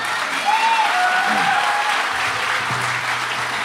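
Sustained audience applause fills a Jashn-e-Rekhta show hall, dense and steady for several seconds with a faint whistle-like tone drifting over the clapping crowd.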